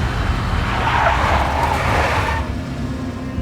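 A big black Mercedes in the Max Payne video game roars with engine noise and squealing, skidding tires, loud and close, fading slightly as the skid ends.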